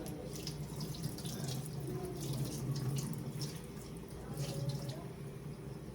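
Tap water runs steadily into a kitchen sink while dishes are rinsed of soap, a continuous splashing stream with small clinks, close and fairly loud.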